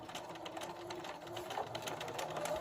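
A sewing machine stitching a bandana fabric drawstring bag runs steadily at close range, its rapid needle ticking in an even, continuous rhythm without pause.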